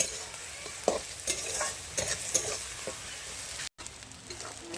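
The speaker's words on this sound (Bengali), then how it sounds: "আর শাকটা ভাজা করে নিচ্ছি" Freshly picked leafy greens sizzle and crackle steadily in a hot pan over an outdoor fire, with a few sharper spatters and stirring scrapes scattered through.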